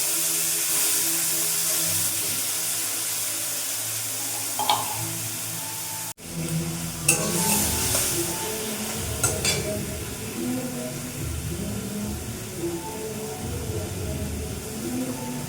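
Ginger, cumin and chilli paste hits hot oil with whole cumin and garam masala tempering for a vegetarian elephant foot yam curry, a steady sizzle and hiss with scraping stirs, close and loud.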